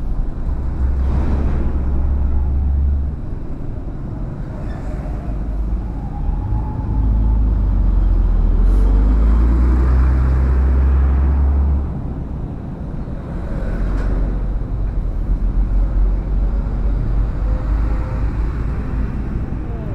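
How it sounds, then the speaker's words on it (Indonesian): Heavy stop-and-go traffic with trucks on a congested road along the Pantura area of north Jakarta, with deep, loud engine rumble that swells and eases across the stretch, steady and close, with no voices. "Oh, macet sekali."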